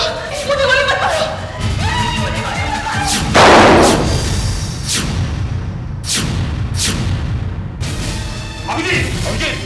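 A single loud, sharp gunshot bursts out midway through a scene from the Hindi crime TV drama CID, set among dramatic sound effects and several softer booming hits.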